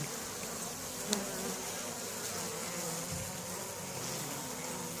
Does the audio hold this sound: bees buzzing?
yes